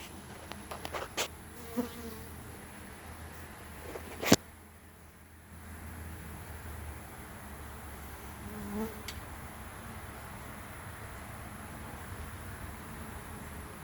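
Honey bees buzz steadily around at close range, a soft continuous hum with a few sharp clicks and knocks early on.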